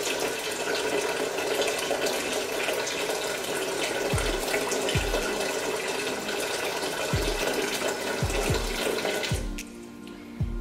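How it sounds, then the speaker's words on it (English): Water runs steadily into a cooking pot for chicken and rice, a continuous close splashing pour with a few low thumps, stopping abruptly near the end. "the first thing we're going to do is we're going to add water"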